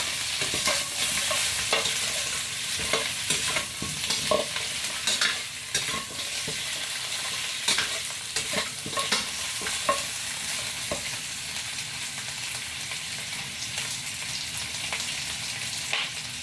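Stir-frying in a wok with a long-handled spatula, hot oil sizzling steadily throughout while the spatula scrapes and clinks against the metal in a loose, repeated rhythm, close and clear with no talking.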